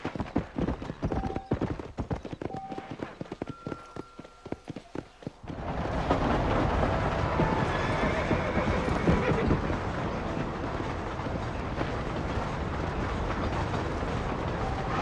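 Horse in the Western game Red Dead Redemption, first a few clopping steps and whinnies, then a loud, continuous rumbling gallop with hooves pounding steadily along a trail until the end.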